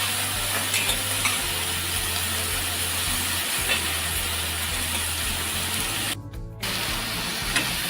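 Steady stirring of mixed vegetables, wild greens among them, in a pan for a traditional Maharashtrian mixed-vegetable dish, a continuous close scraping and sizzling texture with a brief louder rattle near the end.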